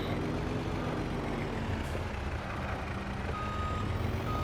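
A truck sounds reversing beeps while parking, steady repeated tones over a rumbling engine, close by with no one talking.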